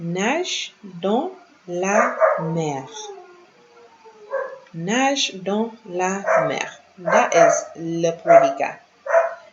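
A dog barks and whimpers in the background of a home setting, with repeated short yips breaking through while someone speaks almost continuously over it.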